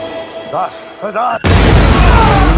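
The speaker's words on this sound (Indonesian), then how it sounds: "dia menggunakan jebakan tikus untuk membuat sebuah peledak kecil" A small blast from a homemade mousetrap bomb in the 2021 action film Nobody bursts in abruptly and loud, with dense, sustained noise following. Brief speech-like sounds come before it.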